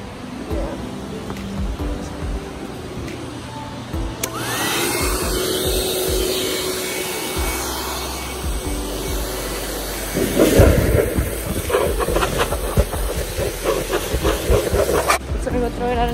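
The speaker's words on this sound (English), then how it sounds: "I'm gonna dry it with the dryer over here with this dryer." A loud, steady blowing rush of a dryer drying a show goat for several seconds, with a heavy low rumble and scattered noises mixed in.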